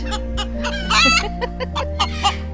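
Hen squawking loudly after laying an egg, a run of harsh, rising clucks and cackles close up over a steady low background hum.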